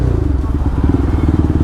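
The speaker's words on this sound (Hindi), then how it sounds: "साउंड इतनी प्यारी आती है ना यार, हर एक कोई पलट कर देखता ही देखता है एक बार बाइक को" A Yamaha R1M fitted with an Akrapovic exhaust rumbles steadily on a city street, a loud, close, throbbing low exhaust note.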